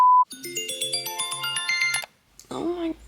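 A phone ringtone plays a bright, fast melodic electronic tune for about two seconds after a short beep, then cuts off, followed by a brief vocal sound nearby.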